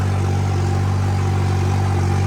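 A Holland tractor engine runs at a steady idle up close, a continuous low throbbing hum with mechanical clatter and no pauses.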